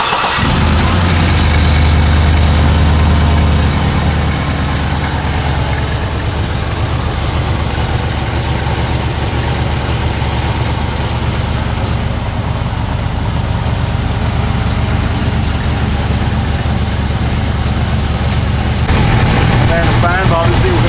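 An LSA clone V8 car engine runs loud and steady the whole time, a thick low rumble with a dense roar on top, slightly easing in the middle before swelling again near the end.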